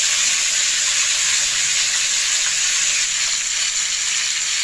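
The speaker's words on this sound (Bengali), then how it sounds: "এবার দেখুন, ওই তেলেতেই আলুগুলোকে দিয়ে দিলাম।" Diced potatoes fry in hot oil for a vegetarian potato and pointed gourd curry, giving a continuous, even, close sizzle and hiss with no voices.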